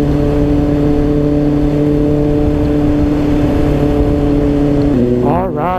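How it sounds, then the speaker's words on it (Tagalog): A 2024 Kawasaki Ninja ZX-6R four-cylinder sport bike runs on an expressway, loud and close, its steady engine drone and exhaust hum holding for five seconds before the pitch shifts and wavers as the revs change. "Ang ingay ng exhaust."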